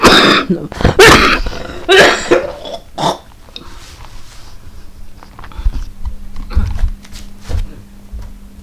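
Several loud, harsh coughs and throat-clearing bursts come close together at the start, followed by quieter shuffling and rustling noises.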